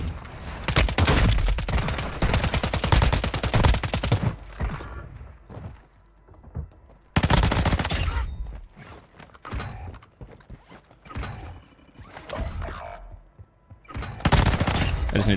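Rapid gunfire bursts in Warzone Mobile, loud and close, with sharp clustered shots coming in several volleys separated by brief quieter gaps.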